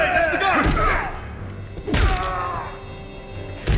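Melee blows landing on a goon in the game Fallen Aces: two heavy, close thuds about a second and a half apart, then a shorter hit at the end, over game noise with some voice.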